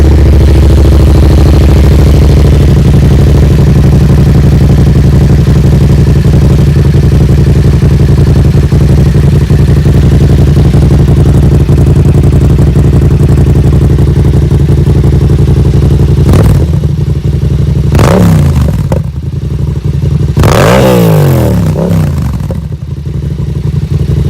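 A 2019 Yamaha MT-07 motorcycle idles loudly and close by with a steady, throbbing twin-cylinder rumble, then is blipped several times near the end, each rev swelling and falling.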